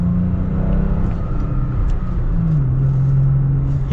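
Engine of a 2022 Toyota Tacoma TRD Pro with manual transmission, blipped a couple of times during a gearshift; a loud, close, steady rumble whose pitch rises, then settles into a sustained drone near the end.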